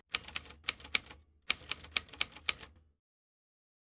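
Typewriter key strikes used as a sound effect, two quick bursts of crisp clacking keystrokes in rapid rhythm, close and dry, followed by silence and a final single click.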